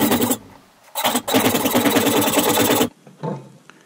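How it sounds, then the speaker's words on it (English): Rapid back-and-forth strokes of a hacksaw cut through a model transmission bracket, a loud rasping rhythm in two bursts separated by a short pause, then stopping. "I've just finished that with my trusty hacksaw"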